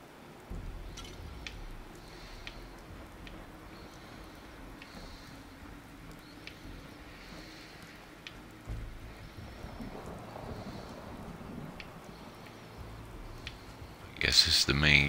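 Thunderstorm rain in the video game Fallout 4, a steady wash of rain with low thunder rumbles and faint clicks. The sound swells toward the end with a sharp, bright burst.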